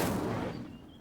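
In Hogwarts Legacy, the Incendio fire spell is cast with a brief, loud whooshing blast that fades within a second.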